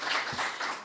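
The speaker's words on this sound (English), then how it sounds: "Yeah, you can clap for that." Audience applause at a Wayne County community housing event in District 6, a brief burst of crowd clapping filling the room, steady and moderately loud.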